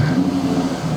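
A 1940 Ford Coupe hot rod engine runs with a loud, close, steady mid-pitched drone as it is revved.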